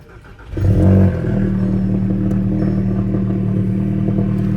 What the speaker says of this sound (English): Get that cold start.